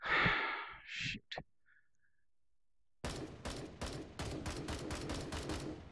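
Rapid gunfire from the VR shooter Hot Dogs, Horseshoes & Hand Grenades: after brief breathy sounds and a pause, a long burst of sharp, evenly spaced shots rattles on for about three seconds with no talking.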